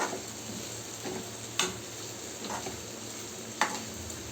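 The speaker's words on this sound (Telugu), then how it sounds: "ఇలా వేసుకున్నాక నీట్గా అయితే మొత్తం కర్రీ అంతా తిప్పుకోవాలి" Spicy curry being stirred in a pan, a steady sizzle of frying underneath with a few sharp scraping knocks of the spoon, close and fairly quiet, no voices.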